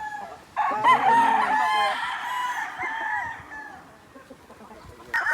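A gamefowl rooster on a game farm crows loudly and close by, one long drawn-out call that tails off, followed by a quieter stretch and a brief sharp sound at the end.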